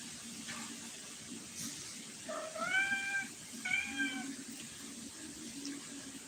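A cat gives two drawn-out meows in close succession, moderately loud against a quiet background hum.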